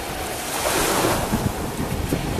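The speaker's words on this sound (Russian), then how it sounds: "Вот такой вот у нас красивый пляж." Ocean waves on a beach at Ko Rin island, Thailand, a loud continuous wash of surf mixed with heavy wind buffeting the microphone, with no voices.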